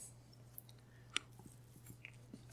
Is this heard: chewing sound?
yes